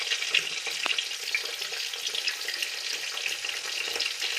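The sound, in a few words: broad beans frying in a kadai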